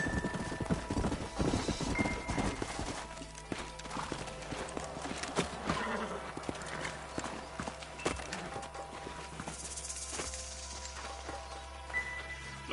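Horse hooves clip-clop steadily throughout in Red Dead Redemption, mixed with a horse's whinny and busy outdoor background noise.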